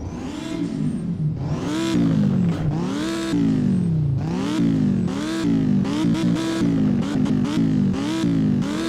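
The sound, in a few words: car engine revving in the video game Driving Empire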